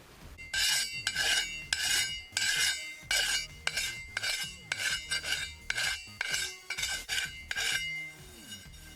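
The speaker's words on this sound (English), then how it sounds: "So we're going to use the curved file now." Curved hand file rasping burrs off the rim edge of a classic Mini wheel, a close series of repeated scraping strokes in a steady back-and-forth rhythm, with no voices.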